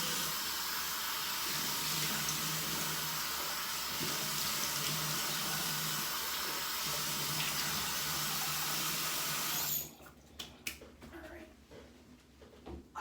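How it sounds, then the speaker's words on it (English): Tap water runs steadily into a bathroom sink for about ten seconds, then stops, followed by a few close wet splashes and drips as water is scooped onto a face. "Gonna go ahead and splash some water on my face"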